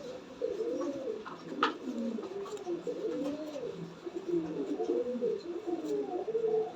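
An English Tailmark Fantail pigeon coos steadily in low, rolling, repeated phrases, close by and fairly soft, with faint background noise.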